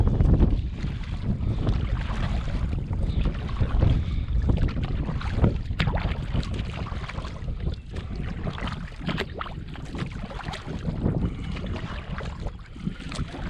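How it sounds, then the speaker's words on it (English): Strong headwind buffets the microphone in a steady, loud roar while a canoe is paddled across a lake in the Boundary Waters wilderness, with faint water splashes beneath the gusts and no voices. "So right now I'm gonna have to fight this headwind"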